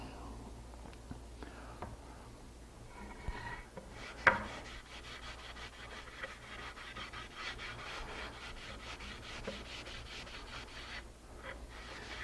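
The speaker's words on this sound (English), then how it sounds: "I'm working it into this swirly grain, and I can kind of get an effect." Glaze worked into the swirly grain of a poplar board over one coat of finish, heard as soft, continuous close rubbing strokes with a brief knock partway through.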